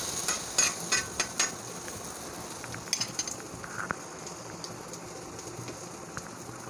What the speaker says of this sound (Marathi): तर एका साईडनी अंडं भाजून झालं आहे, तर मी दुसऱ्या साईडने ह्याला पलटवून घेते आहे